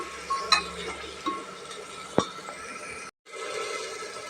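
Chopped potato stirred and sautéed with vegetables in a pan for spiced masale bhat, giving soft scraping stirs and a few sharp utensil clinks over a faint steady sizzle, close and fairly quiet.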